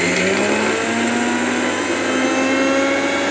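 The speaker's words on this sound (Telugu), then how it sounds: "మనం కప్పు వేసి మనం మిక్సీ పట్టేద్దాం" A mixer grinder runs with salt in its jar to sharpen the blades, giving a loud, steady motor whine whose pitch climbs gradually as it spins up, with no talking.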